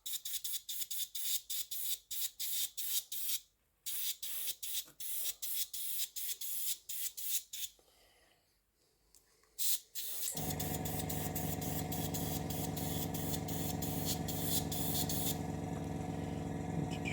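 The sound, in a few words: spraying a dust coat of paint on a model submarine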